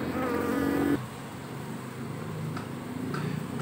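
Honeybees from a colony hanging in a tree drone in a dense, close swarm while being moved into a hive box, louder at first, then a softer steady hum.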